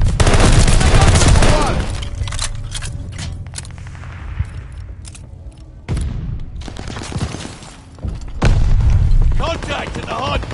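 A video game battle with dense gunfire and a booming grenade explosion, loud bursts of automatic fire broken by a quieter stretch, with shouted voices over the combat.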